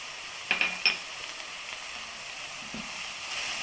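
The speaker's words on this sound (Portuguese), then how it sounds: "Refoguei a nossa cebola com o bacon." Onion and bacon sauté in a pan with a soft, constant sizzle, broken early by a few quick metallic clicks and later by a faint scrape, with no talking.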